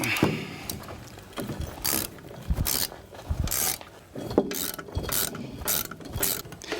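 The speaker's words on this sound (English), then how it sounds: "You need a Torx. Take these out." Ratchet driver with a Torx bit removing screws from a snowmobile primary clutch, repeated clicking ratchet bursts and metallic grinding turns, close and moderately loud.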